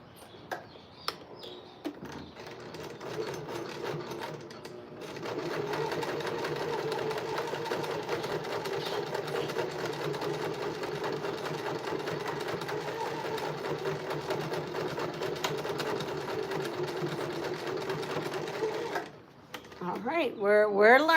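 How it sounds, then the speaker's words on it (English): A sewing machine runs steadily for a long stretch while stitching folded fabric for a cat toy, starting and stopping with a soft whirring drone, and a voice speaks briefly before and after. "Let's see if my machine will sew this."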